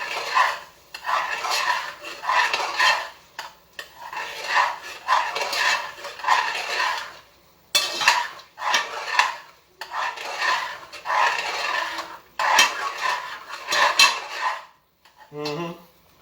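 Pots, pans and metal utensils clatter and scrape in bursts during home cooking, with short pauses between rhythmic stirring and rubbing sounds, fairly close and moderately quiet.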